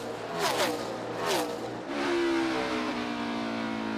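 NASCAR Cup Series race cars at Phoenix roar past up close, two loud engine sweeps in the first half followed by a sustained high revving tone as one car stays on the gas.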